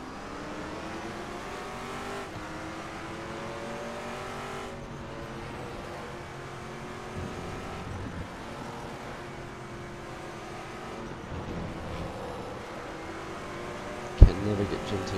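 Saleen S7R race car at the Sepang circuit in the RaceRoom racing game, its engine droning steadily with shifting revs and gear changes, a sharp thump near the end, other GT cars around.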